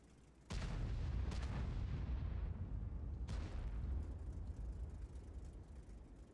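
Several loud, booming video game gunshots, the first sharp blast followed closely by another and a third a few seconds later, each trailing into rumbling echo.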